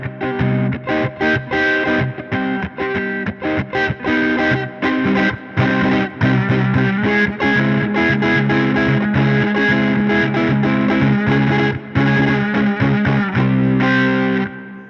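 Electric guitar strums minor 7 chords in a steady, rhythmic pattern of choppy repeated hits with a gritty, effected tone, loud and close, with no talking.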